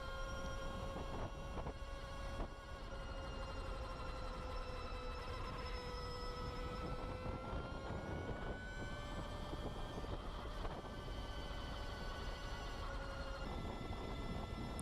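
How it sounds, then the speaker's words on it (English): A loud, high mechanical whine of straight-cut gears on a 2019 Energica EGO electric motorcycle rises and holds steady over a dense roar of wind and motor noise, continuous throughout. "The straight-cut gears are extremely loud and sound like a mix between a jet engine takeoff"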